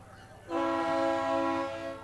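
Horn on a parade-float locomotive built on a 1921 Dodge chassis at a street festival parade: one loud, sustained chord-like blast lasting about a second and a half, heard close over outdoor crowd noise.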